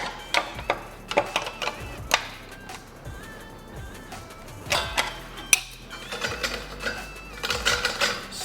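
Close mechanical ticks, clicks and metallic scrapes of a spanner turning a nut and bolt anti-clockwise on a Scott Bonnar model 45 cylinder mower's reel adjuster, irregular and busy throughout.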